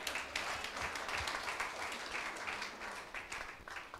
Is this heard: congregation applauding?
yes